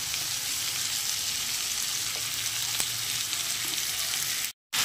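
Onion paste and green tomatoes frying in a pan with steady sizzling and occasional stirring, a brief cut near the end, no speech.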